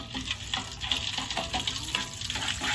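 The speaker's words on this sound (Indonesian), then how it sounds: "serundengnya ini kita goreng dengan api yang kecil aja ya teman-teman" Serundeng sizzling and crackling in hot oil over a low flame, with steady close frying noise and occasional stirring scrapes throughout.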